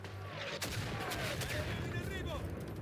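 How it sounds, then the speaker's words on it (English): Mortar fire in the WWI video game Isonzo pounds continuously at close range, a dense battle roar of booms and blasts with whistling shells streaking overhead. "God, I hate those mortars."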